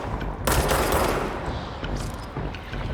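Snipers fire on the player in the video game Anarchy Online. Rapid bursts of gunfire crackle loudly and continuously, with sharper shots jutting out over the dense volley.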